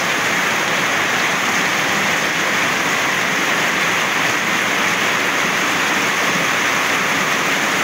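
Steady, dense roar of heavy rain pouring down, a constant broadband hiss with no letup and no voices.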